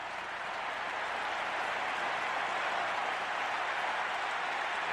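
Minnesota home crowd at a 1991 World Series Game 6 between the Atlanta Braves and Minnesota Twins, a steady, dense roar of cheering and applause holding at an even level throughout with no voices standing out.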